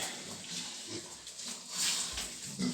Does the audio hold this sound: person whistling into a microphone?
no